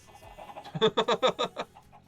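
A video game chicken clucks in a quick run of about six close, rhythmic clucks that rise and then taper off, heard alone.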